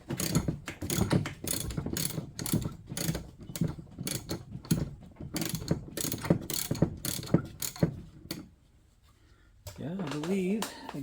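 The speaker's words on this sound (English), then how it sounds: "around the ratchet handle and started pulling on the ratchet strap" A ratchet wrench cranking on a clutch bolt of a 2008 Yamaha Drive G29 golf cart, a fast run of loud, close, regular clicks that pauses briefly before a voice speaks at the end.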